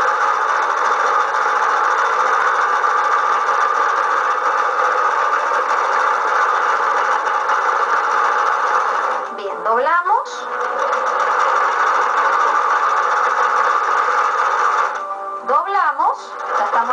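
A sewing machine running a zigzag stitch through batting and fabric, whirring steadily and loudly up close, pausing briefly twice with small clicks and shifts before starting again.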